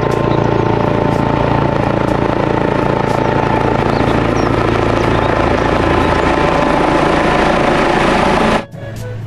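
A toy helicopter gives off a steady, loud whirring drone that runs without a break for about eight and a half seconds, then drops away suddenly near the end.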